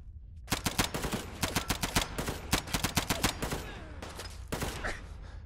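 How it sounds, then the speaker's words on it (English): Rapid bursts of loud gunfire from a gun in Fallout 4, close and dense, sharp repeated shots in volleys for several seconds with brief pauses and a short lull near the end. "Yeah, that's a loud gun."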